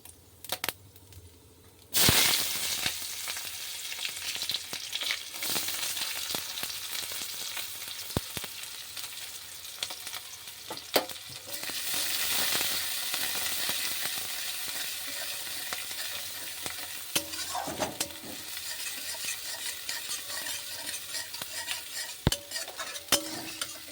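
Spices and onion sizzle and fry in darkened cooking oil, a steady broadband hiss with occasional stirring scrapes and utensil clinks against the pan, close and continuous without talk.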